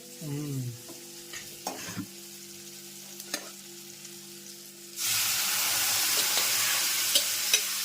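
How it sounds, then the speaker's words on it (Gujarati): A Gujarati-style tempering for a moong curry hits the pan: after a few quiet clinks and a brief hum, a loud, sudden sizzling hiss erupts and continues steadily, close by. "ये हमारा रेडी वघार हो गया."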